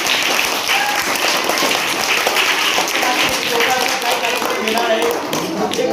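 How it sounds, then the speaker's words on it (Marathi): Applause for Manish Appa Patil at a public gathering, a dense sustained crowd clapping close and loud throughout, with voices mixed in. "मनीष आप्पांसाठी परत एकदा जोरदार टाळ्या द्या."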